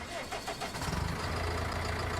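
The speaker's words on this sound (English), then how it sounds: "That is a nice engine purring." In a farming video game, a tractor engine cranks with a few quick pulses, then settles into a steady, low, rumbling idle that continues close and loud with no talk over it.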